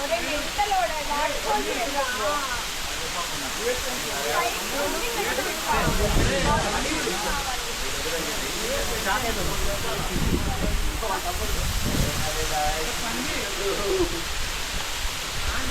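Steady rushing water from Katiki waterfalls in Araku fills the background while people talk over it.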